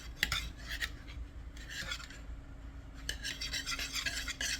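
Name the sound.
whisking eggs with melted butter in a bowl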